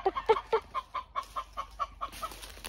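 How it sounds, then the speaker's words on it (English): Agitated chickens give a rapid, evenly spaced run of sharp clucks close by, about a dozen calls in quick rhythm, clear and alone without speech. "Definitely pissed off the chicken."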